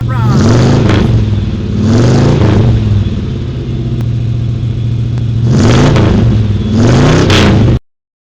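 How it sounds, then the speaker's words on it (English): Hot rod engines rev at an outdoor cars-and-coffee show, loud rising and falling bursts in two pairs with steady rumbling idle between them, heard up close. "let's rev it up in them hot rods"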